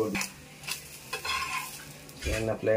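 An omelette frying in a pan gives a soft, close sizzle, with utensil scrapes and a few light clinks against the pan.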